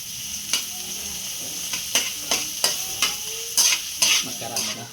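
Onions sautéing in a pan while preparing a seafood platter: steady sizzling hiss broken by a series of sharp stirring scrapes, close and fairly loud, with no talking.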